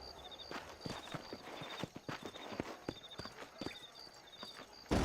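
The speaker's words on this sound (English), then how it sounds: "These are fine horses." Horse hooves in Red Dead Redemption clopping in a steady walking rhythm on hard ground, close and fairly loud, with faint tack jingles and a soft snort near the end.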